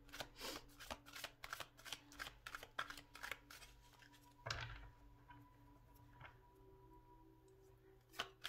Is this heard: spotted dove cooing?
no